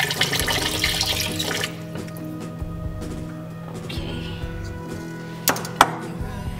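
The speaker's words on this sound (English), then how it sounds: "I wash it, usually wash about 3 times and then soak the rice in the water about 30 minutes." Rice being washed in water in a pot before cooking Japanese rice: a loud rush of running water for the first seconds, then quieter sloshing and stirring with a few sharp knocks near the end.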